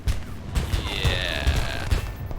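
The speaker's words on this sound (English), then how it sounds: "I now have to deal with the mountain of flak." Anti-aircraft flak in War Thunder bursts around a plane in steady rapid thuds, with a droning engine tone and whining sweeps underneath, loud and close.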